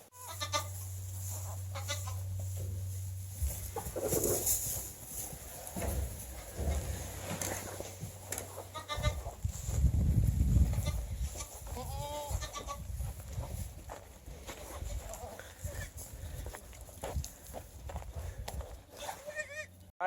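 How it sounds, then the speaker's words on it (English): Goats bleat intermittently on a farm among young kids, close and scattered over steady background noise, with hooves shuffling and a low rumble partway through. "So there's some baby goats, but I'll get footage of some ones that are a week old and active."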